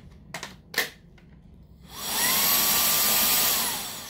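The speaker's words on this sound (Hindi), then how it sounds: "ये हमारा एयर ब्लोअर टूल है" A Makita 18V cordless air blower, fitted with a 5Ah battery, spins up after a few soft clicks into a steady, loud high-pitched whoosh and whine that holds for a couple of seconds.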